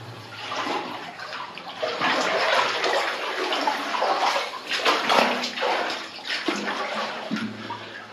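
Water falling and dripping into mud inside an old mine adit, a continuous splashing, trickling wash with irregular louder pulses, close by and alone with no talk.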